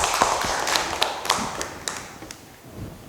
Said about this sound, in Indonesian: Tepuk tangan buat kelompok rezeki.